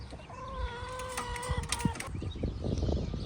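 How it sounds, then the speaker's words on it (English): Chickens on a homestead near a vegetable garden, giving a few clucks and calls amid scratchy rustling and shuffling, fairly close and moderately loud, with no speech over them. "Chickens!"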